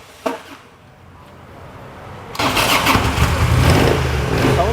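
A second-hand motorbike with about 45,000 km on it is started: a short click early on, a quiet lull, then the engine catches at full loudness and idles steadily and close for the rest of the clip.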